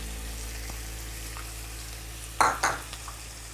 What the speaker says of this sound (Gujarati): અને એમાં આપણે આ ગાજરની છીણને સાતળી લઈશું, સોતે કરી લઈશું.